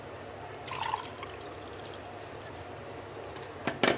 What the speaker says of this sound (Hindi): अब हम इसके अंदर हल्का पानी डालेंगे और इसको मिक्स करेंगे